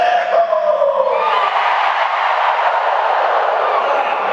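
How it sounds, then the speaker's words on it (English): A huge crowd of more than 12,000 at a Disney D23 panel cheers and screams in a loud, sustained roar that holds steady throughout. "Let me get a cheer!"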